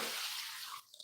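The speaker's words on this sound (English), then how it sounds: "Water." Water gushing steadily from a hose or tap while plants are watered outdoors, a close broad hiss that cuts off abruptly near the end, leaving a few faint drips.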